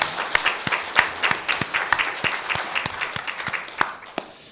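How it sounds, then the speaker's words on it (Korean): A church congregation claps during a Sunday worship service, a short burst of fairly loud applause with distinct rhythmic hand claps that gradually thins out toward the end. "하나님께 박수 영광 돌립니다."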